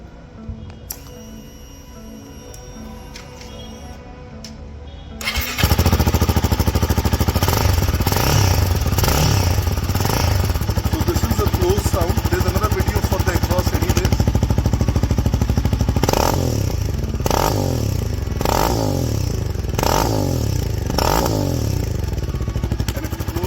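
A Royal Enfield Himalayan 450 motorcycle with its variable exhaust set to off starts up after a quiet moment, then idles loud and close with a steady rumble and a few blips of the throttle.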